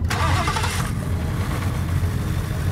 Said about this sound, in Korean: 포드에게는 코요테 엔진이 있습니다.